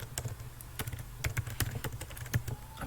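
Quick, light clicking of fingers typing on a computer keyboard, steady irregular taps at close range with no talking.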